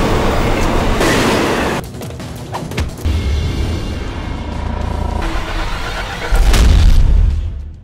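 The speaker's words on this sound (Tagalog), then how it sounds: "Naipit ang binti ni Cam sa ilalim ng isang umaandar na tren." A moving train in a 2013 martial-arts action film rumbles loudly and continuously, with heavy low booming surges and sharp metallic bursts layered over the roar, and no talk.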